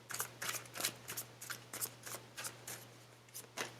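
Tarot cards are shuffled close up in about a dozen quick papery riffles and flicks, a few per second, over a faint low steady hum.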